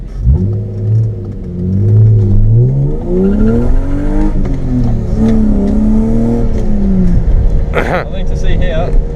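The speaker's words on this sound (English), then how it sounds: "Listen to my exhaust." BMW E36 with a 2.8 M52 straight-six and straight-pipe exhaust revving hard, loud close engine rising and falling through several revs, with a voice shouting over it near the end.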